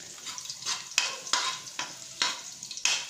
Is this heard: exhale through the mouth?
no